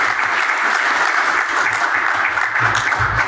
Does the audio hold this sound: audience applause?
yes